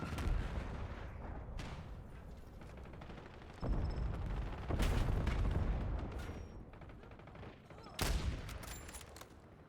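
A sniper rifle firing in a video game, several loud, sharp blasts spaced a few seconds apart over a constant rumbling bed of game noise.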